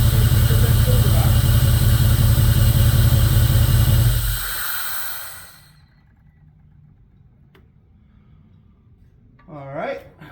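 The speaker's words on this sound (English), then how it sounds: "So let's shut it off one more time, start it back up, and see if we get that cylinder back." A 2002 Jeep Grand Cherokee 4.7 HO V8 with a melting coil idles loudly while running on seven cylinders, then shuts off into near silence, and a short burst follows near the end.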